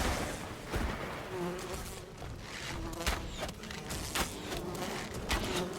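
Swarming bees in the survival video game Enshrouded drone and buzz continuously at close range throughout, with scattered sharper impacts and hits of combat over the insect hum.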